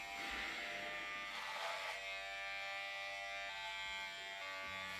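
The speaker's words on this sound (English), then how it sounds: "It's gonna take time, this shitty razor." An electric razor buzzes steadily and close by, its motor hum shifting slightly in pitch as it moves through hair, with no talking.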